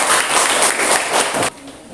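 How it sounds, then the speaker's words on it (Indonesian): Students in a classroom clap together for a group, a dense, loud burst of applause that cuts off abruptly halfway through, leaving a quieter room. "Tepuk tangan dulu."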